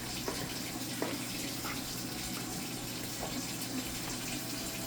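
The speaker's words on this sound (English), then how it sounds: "I'm also going to turn the hot water on" Hot water runs steadily from a kitchen tap into a bowl, a constant broadband rush at moderate level with a few faint clinks, no talking over it.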